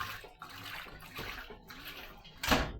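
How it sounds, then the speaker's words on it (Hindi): Water splashes and sloshes as clothes are washed at home, a steady wet churning with a louder splash near the end, no voices. "यहाँ पे धुल रहे हैं मेरे कपड़े।"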